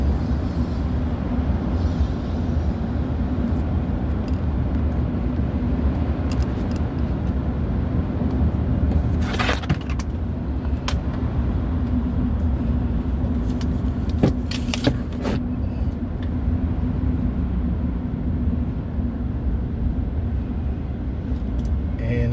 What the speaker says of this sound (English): this is the traffic we have on 59